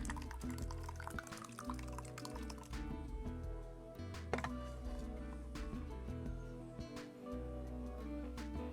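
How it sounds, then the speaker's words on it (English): Fresh coconut milk pours steadily through cheesecloth with drips and splashes, a continuous wet trickle close by with a few small knocks. "then I will pour my milk in"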